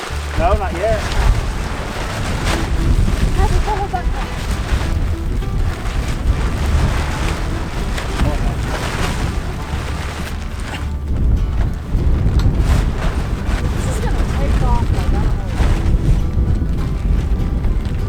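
Strong wind batters a backyard outdoors where a tarp is being handled to build a chicken hoop coop, roaring steadily and loudly as constant buffeting gusts, with a voice talking now and then under the noise.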